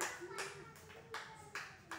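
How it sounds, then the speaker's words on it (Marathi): Children in a classroom clap in short bursts, a handful of crisp rounds of applause close by, with some voices mixed in. "अशा टाळ्या वाजल्या पाहिजे"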